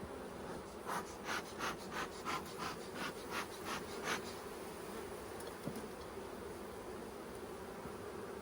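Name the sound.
honeybees buzzing at an open hive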